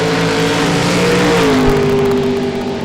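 Drag cars launching down the dragway at Mo-Kan Dragway during nitro Saturday qualifying, a loud sustained engine roar with a steady rising whine that shifts pitch midway, no talk over it.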